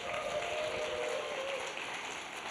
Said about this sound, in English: ladies and gentlemen, please make a whole lot of noise for the awesome Mr. Colin.